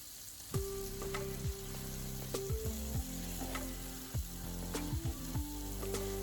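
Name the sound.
steaks sizzling in a pan after flipping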